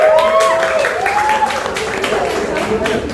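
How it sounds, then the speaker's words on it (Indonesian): Audience applause at a press conference for a film's final trailer and music video launch, steady and fairly loud, with voices and crowd chatter over it. "boleh tepuk tangan dulu teman-teman"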